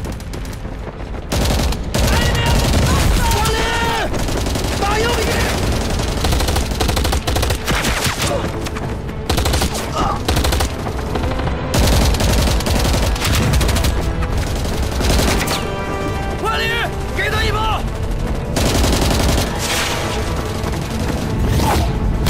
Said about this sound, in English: gunshot? Not from the north, but I think they're coming soon.